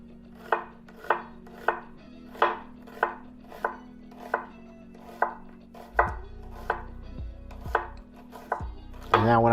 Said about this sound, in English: I'm going to make a series of vertical slices down like this